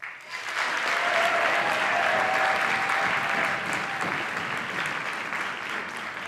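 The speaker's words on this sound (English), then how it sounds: "please help me welcome the Premier Orchestra and Director Miss Rainey Hollingsworth with a round of applause" A school concert audience gives a steady round of applause welcoming the orchestra and its director, sustained, fairly distant clapping that holds evenly throughout.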